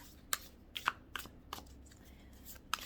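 Cards being shuffled for a tarot reading, a series of soft, quiet riffling snaps spaced irregularly, each a brief papery burst with faint room hush between.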